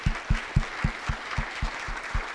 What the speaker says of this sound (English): So please, everyone, a warm round of applause to Luca.